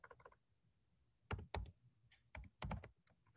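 A handful of keystrokes on a computer keyboard, with a few soft clicks followed by several louder, heavier key thunks in two short clusters, close and isolated in a quiet room.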